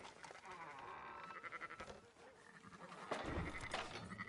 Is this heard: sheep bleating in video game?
yes